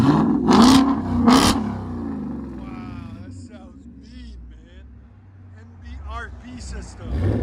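A 2023 Ford Mustang GT with a 5.0L V8 and MBRP Sport cat-back exhaust gives two quick, loud revs up close, then settles into a low rumbling idle while a person talks over it.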